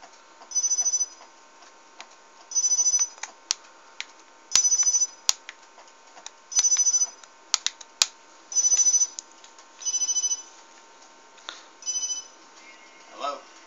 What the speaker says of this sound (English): And there goes Kenny's phone.